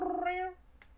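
A gray cat lets out one drawn-out, falling meow, loud and close, that fades into quiet with a faint click afterward.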